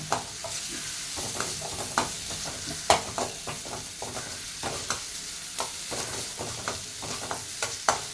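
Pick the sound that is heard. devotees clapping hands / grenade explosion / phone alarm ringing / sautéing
sautéing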